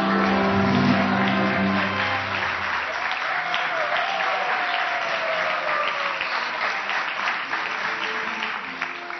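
A television studio audience gives a long, even roar of applause at a Turkish daytime talk show, dense and sustained for about nine seconds, with faint music underneath at the start.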